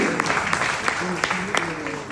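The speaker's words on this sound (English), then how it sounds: "With resounding applause, please welcome him again." Audience applause welcoming a speaker at a fireside chat event, a moderate continuous clapping under a faint voice, with a few sharper claps standing out.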